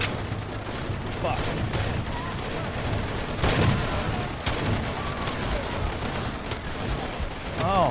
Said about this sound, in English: Oh, those guys are shooting me too.